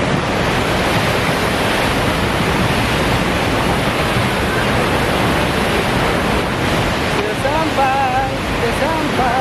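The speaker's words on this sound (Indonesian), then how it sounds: "Sudah sampai air terjun." A waterfall at Tangga Seribu in Siring Kemumu, North Bengkulu, roars as a loud, unbroken wash of falling water close by, with brief voices near the end.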